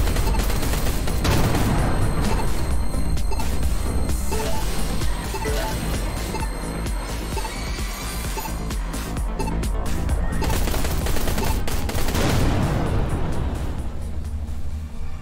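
Automated turrets in the space shooter Everspace 2 fire continuous rapid bursts at enemy ships, a dense chatter of gunfire layered over booming game effects for the whole stretch.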